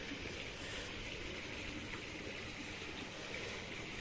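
Steady flowing water of a small decor river fed by two waterfalls, a continuous close rushing wash with no breaks and no voices.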